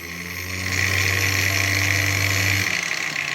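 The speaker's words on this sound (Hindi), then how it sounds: "वाओ, अब ये फुल पावर पे घूम रहा है दोस्तों, एंगल ग्राइंडर एकदम पावर पे घूम रहा है" An angle grinder spins up to full power, giving a loud, steady high-pitched whine with a low motor hum that holds for about two seconds before easing slightly.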